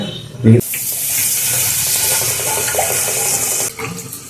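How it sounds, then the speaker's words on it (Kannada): A loud, steady gush of water, a cup poured into a cooking pan, runs for about three seconds after a brief knock, then stops abruptly. "ಒಂದು ಕಪ್ ನೀರು ಹಾಕ್ಬಿಡೋಣ"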